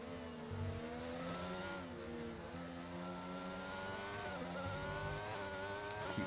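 Formula 1 cars, a Mercedes chasing a Ferrari with DRS open on the straight, scream past with high, steady engine whines that glide through pitch changes, loud and continuous with no talk.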